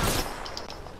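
Gunfire in the video game Apex Legends: a brief, loud burst of rapid shots crackles up close, with sharp reports overlapping in a short fusillade.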